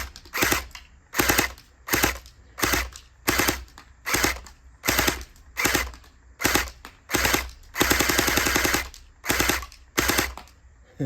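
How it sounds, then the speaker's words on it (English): An Anstoy gel blaster with an upgraded drum magazine fires in rapid bursts outdoors, a sharp mechanical clatter of shots repeating about a dozen times in regular runs, close and loud, with one longer sustained burst midway. "Now it's feeding. So here we go. Oh, it is shooting every time."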